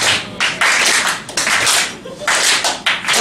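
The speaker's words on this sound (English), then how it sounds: "Let's get a slow clap. I think it's about time for a slow clap." Audience slow clap at a café comedy night: a crowd claps in unison in distinct rhythmic bursts, loud and close, with some voices mixed in.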